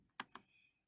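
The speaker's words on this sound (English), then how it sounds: "So I'm typing ping" Two quick, soft keystrokes tap on a computer keyboard while a network ping command is entered, isolated in a quiet room.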